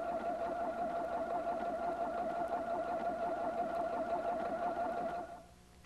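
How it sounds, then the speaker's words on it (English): A Husqvarna Viking Platinum 770 sewing machine stitches linen or cotton fabric with lightweight thread, a steady, even mechanical hum and rapid needle patter running nearly six seconds before stopping abruptly. "sew with matching lightweight thread on linen or cotton fabric"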